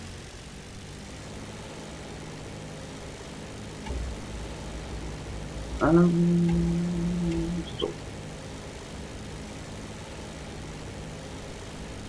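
Bomber aircraft engine drone in War Thunder, a steady low propeller hum running throughout with a brief louder tonal burst midway, and a voice speaking once.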